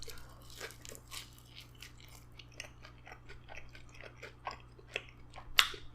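Someone bites into and chews the crunchy crust of a Pizza Hut cheesesteak pizza, giving a series of soft, close crunches and chewing noises with one sharper crack near the end, over a low steady hum.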